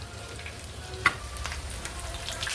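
Masala vada frying in hot oil while being turned to brown the other side, a steady soft sizzle with one brief sharper clink of a utensil partway through.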